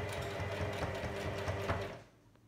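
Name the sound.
sewing fabric pieces together for a face mask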